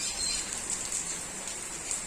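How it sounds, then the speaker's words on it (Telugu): Heavy rain pours steadily in a dense, even hiss, close and unbroken, with no voices. "రెయిన్ చూస్తున్నారు కదా, ఎంత రెయిన్ వస్తుందో"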